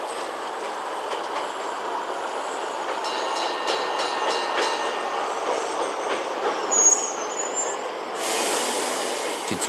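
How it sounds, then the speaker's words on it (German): A train in a Nintendo video game trailer rumbles steadily with rail clatter and a brief high wheel squeal, loud and continuous, without voices. "Den Zug kennt man."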